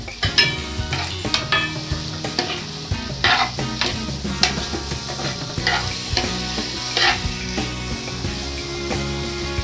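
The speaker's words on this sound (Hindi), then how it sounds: "अब इसमें टमाटर डाल रही हूँ।" Tomatoes sizzle loudly in a hot frying pan while a utensil stirs and scrapes, with clinks of metal against the pan throughout.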